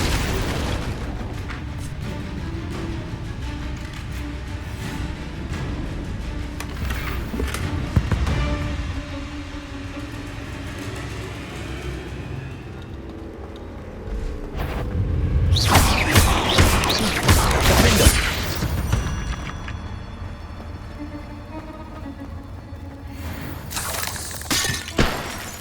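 Repeated spell explosions crash through combat in the Hogwarts Legacy video game, with booming thuds and shattering, glassy bursts, and a long, intense stretch of blasts in the middle before further impacts near the end.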